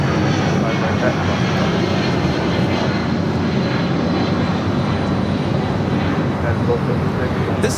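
Delta Air Lines Boeing 757-200 taking off at LAX, its engines producing a broad, sustained roar at steady loudness across the whole stretch, with no talking audible.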